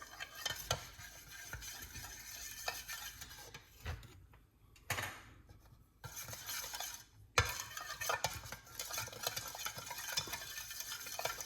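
A spoon stirring a cayenne pepper mixture in a bowl, irregular scraping and clinking strokes close by, with a couple of brief pauses between bursts of mixing and no voices.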